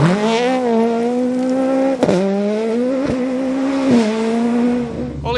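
A Millington-engined Proton rally car driven hard on a forest stage of the Cambrian Rally, engine screaming at high revs with sharp gear changes and throttle lifts, loud and close throughout.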